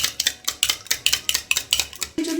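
Eggs with salt are beaten briskly in a bowl, a fork or spoon clicking against the sides in about a dozen quick, even strokes, close and clear, before a short low hum takes over at the end.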